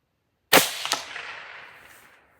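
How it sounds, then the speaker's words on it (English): A single loud, close scoped-rifle shot fired at a staple on white paper: one sharp crack followed by a brief second report and a long fading echo, with silence before it. "I'm gonna shoot at the staple."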